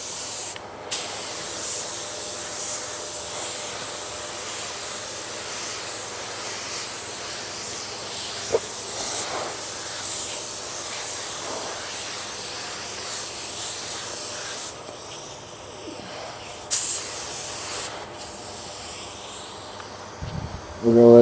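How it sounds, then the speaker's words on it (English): A spray gun lays a light drop coat of clear paint, a steady close hiss running almost continuously with a few short pauses between passes. "then we'll put a drop coat on it."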